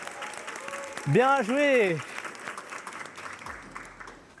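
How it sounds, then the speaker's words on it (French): A boxing class group applauds together after a session, with clapping running steadily beneath a coach's voice and a brief sung or whistled tone in the middle. "On peut venir s'applaudir, la famille."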